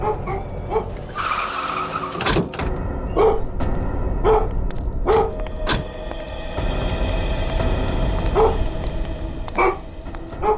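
A dog barks in a run of short, sharp bursts as a man leads it toward a parked van outdoors, repeating every second or so over a steady hum of street and vehicle noise.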